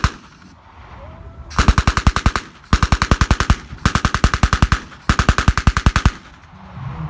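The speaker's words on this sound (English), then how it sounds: "This thing has a cyclic rate of fire of 1200 rounds a minute. It's twice as fast as these things. They call it Hitler's buzzsaw." A German MG42 machine gun fires four long bursts at an extremely high cyclic rate, each a loud, tearing buzz of closely packed shots separated by short pauses, heard outdoors at a reenactors' display.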